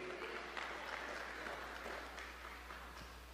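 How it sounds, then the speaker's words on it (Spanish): A church congregation gives sustained applause, a continuous crowd of clapping at moderate distance, steady and slowly easing off, with a low hum underneath. "Dele aplauso al Señor, dele aplauso al Señor"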